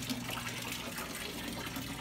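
Water runs steadily from a tap for a Belgian Malinois dog's bath, a constant close gushing and splashing with no voices.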